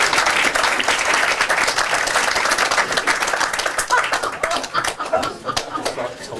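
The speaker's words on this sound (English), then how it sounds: "A big applause for you." Enthusiastic audience applause for a performer, dense clapping close and loud at first, then thinning out and fading toward the end.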